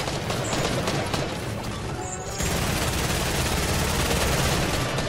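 Gunfire in the Fortnite video game: dense rapid bursts of automatic shots, loud and continuous, with a brief lull partway through before the firing resumes at full intensity.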